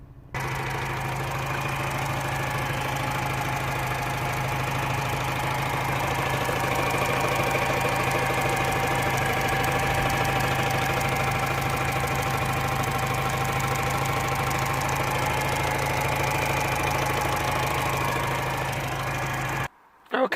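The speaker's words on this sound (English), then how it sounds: "engine seems to be running absolutely perfect" A Mini One R56 with a 1.6 engine idles steadily with the bonnet open, a continuous mid-range hum with a low drone holding even for about twenty seconds before cutting off abruptly.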